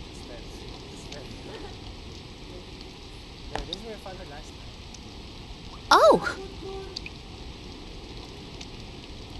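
Steady rain patters through a scene in the video game Persona 4, a soft continuous hiss beneath a person talking, with a brief sharp exclamation partway through.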